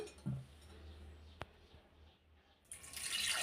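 After a quiet moment and a soft knock, water begins pouring steadily into a cooking pot, growing louder toward the end.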